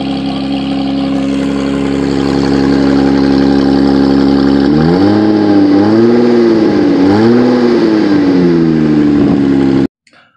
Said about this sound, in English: this is what it sounds like to have a broken pipe or catalytic converter / resonator